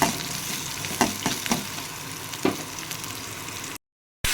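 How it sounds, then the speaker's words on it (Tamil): Tomatoes sautéing in a pan with onions for a yellow pumpkin masala. A loud, close sizzle runs throughout, broken by several scraping stirs, and it cuts out briefly near the end. "இப்போ தக்காளியும் போட்டு நல்லா வதக்கிக்க போகிறோம்"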